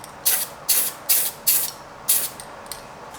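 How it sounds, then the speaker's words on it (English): Semi-gloss varnish sprays from an aerosol can onto a scale-model firetruck cab and seats: six short hissing bursts in a loose rhythm, close and fairly loud. "We're going to apply some semi-gloss varnish straight from this can."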